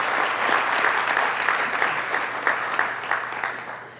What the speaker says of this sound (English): And let's give another round of applause to Tommie Burton.